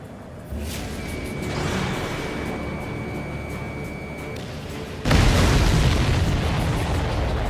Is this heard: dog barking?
no